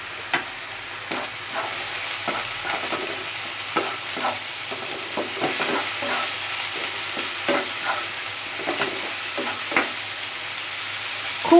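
Masala for a pomfret fry, made with Kashmiri chilli paste and turmeric, frying in a pan with a steady sizzle and frequent sharp scrapes and taps from stirring.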